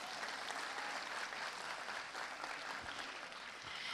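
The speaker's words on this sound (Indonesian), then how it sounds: "Sekali lagi, tepuk tangan yang meriah." Steady, dense applause from an audience at an Indonesian celebration concert, a continuous wash of many hands clapping that holds even and fairly distant throughout.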